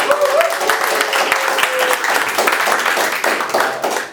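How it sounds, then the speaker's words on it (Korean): An audience claps warmly to welcome a guest on a Korean talk show, dense steady applause close and loud for a few seconds, with a voice briefly heard over the start. "저 박수로 크게 좀 환영을 해주시죠"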